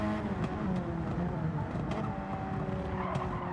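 Race cars in Gran Turismo 7 roar steadily through a legends race, with continuous engine drone, layered revving and intermittent tire squeal throughout, fairly loud and without pauses.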